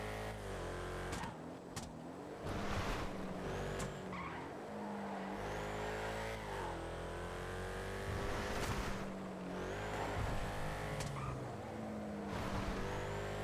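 A racing video game car engine revs and shifts continuously, with loud tonal whines rising and falling, tire squeals and brief impact knocks, while a player talks intermittently.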